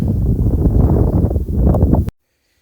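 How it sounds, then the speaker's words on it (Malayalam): Cold wind on the Kurisumala hilltop at Vagamon buffets the microphone as a loud, low, gusty rumble for about two seconds, then cuts off abruptly into silence. "ചെറിയ തണുത്ത കാറ്റുണ്ട് കേട്ടാ നമുക്കൊരു സുഖമുണ്ട്"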